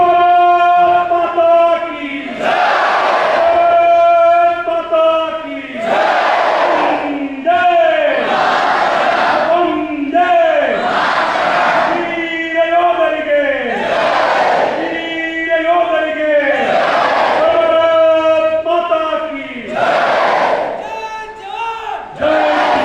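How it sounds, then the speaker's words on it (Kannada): A crowd at a Kargil victory anniversary event shouts jaikara victory chants in loud, rhythmic unison, with repeated call-and-response bursts of massed voices lasting throughout. "ಎರಡು ಕೈಗಳು ಮೇಲ್ ಮಾಡಿ ಮುಟ್ಟಿ ಕಟ್ಟಿ ಜೈಕಾರ."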